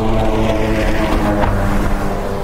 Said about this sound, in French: c'est le bruit d'un moteur 2 temps